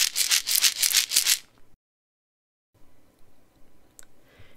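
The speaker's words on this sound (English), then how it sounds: "They're called maracas, and they're musical instruments." A pair of maracas shaken in about six quick, loud rhythmic bursts of dry rattling, followed by a short silence and then faint room noise.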